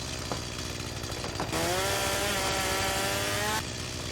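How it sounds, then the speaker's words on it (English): A chainsaw cuts into a tree in the truck-and-salvage game Junkyard Truck, its engine buzzing steadily and rising into a higher, harsher whine as the blade bites into the wood, loud and continuous. "Chop with the chainsaw."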